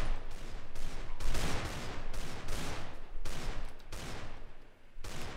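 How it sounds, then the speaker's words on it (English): Bursts of rapid gunfire crackle in repeated volleys, some sustained like automatic weapons, with brief gaps between them and no talking, in the Minecraft mini-game MineStrike. "I hear gunshots."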